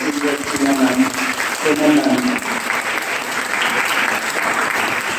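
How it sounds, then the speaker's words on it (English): Audience applause for participants at a school inter-section debate contest, a dense sustained round of clapping filling the room for about five seconds, with some voices mixed into the crowd noise. "a big round of applause for each and every one of you"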